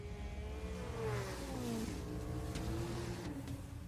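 Anime race cars on a wet mountain course beside a lake, engines revving and shifting pitch as they sweep through a left-hand turn, steady and fairly close with no voices.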